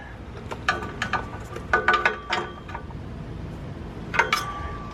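A new oxygen sensor being tightened on a 2015+ Jaguar XE 3.0L, a series of short, light metallic clicks and clinks from the tool, close, with quiet gaps between them.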